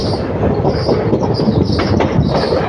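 A train travels at high speed, a loud, close, continuous rumble with rattling and rhythmic clatter running through the whole short stretch.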